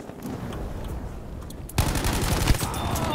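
A Japanese machine gun fires in Battlefield V, a quieter stretch of game noise giving way to a loud, sustained rattle of rapid automatic bursts close to the player.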